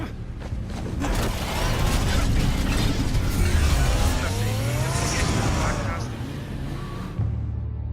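Car in the Batman: The Telltale Series video game: a loud engine roar with mechanical whirring and tire noise, building and then sustained for several seconds, with speech heard over it.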